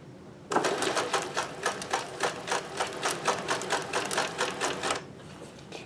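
A Singer 411G sewing machine chain stitches rubber-backed fabric, running in a fast, steady clatter of rhythmic clicks for about four and a half seconds before stopping, close and clear with no talking.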